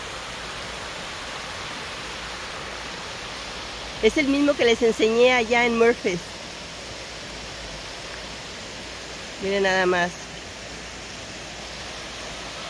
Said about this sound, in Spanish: Oye, escuchen el agua.